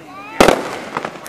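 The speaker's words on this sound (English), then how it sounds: "The fireworks can't go too high." Fireworks bursting at a 2016 fireworks show in Kentucky, a sharp close crack followed by a few quicker pops, with a voice talking under them.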